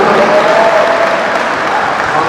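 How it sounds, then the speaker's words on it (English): Audience applause at the closing ceremony of a state badminton championship, a continuous, even roar of clapping from a large crowd, loud and sustained throughout. "A big round of applause for Dr."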